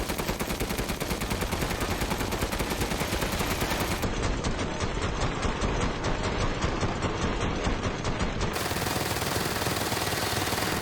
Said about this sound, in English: So let's test the machine gun out.